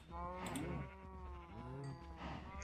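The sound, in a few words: cow mooing in a video game as it is killed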